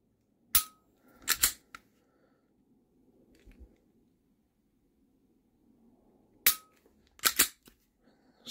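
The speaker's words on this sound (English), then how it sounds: "I'm going to compare that to this trigger squeeze right here" Springfield Hellcat Pro pistol trigger being squeezed, giving two sets of sharp, close metallic clicks, a pair early and another pair several seconds later, with quiet room tone between.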